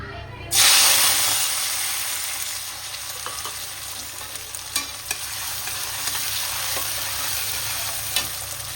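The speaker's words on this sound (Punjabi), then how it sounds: "ਤੇਲ ਗਰਮ ਹੋਣ ਤੇ ਪਾਵਾਂਗੇ ਗਾਈਜ਼ ਆਪਾਂ ਪਿਆਜ਼ ਹਰੀਆਂ ਮਿਰਚਾਂ ਐਂਡ ਟਮਾਟਰ" Onions, green chilies and tomatoes drop into hot oil with a sudden loud hiss, then settle into a steady, close sizzle broken by occasional stirring knocks.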